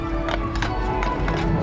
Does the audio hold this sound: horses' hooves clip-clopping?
yes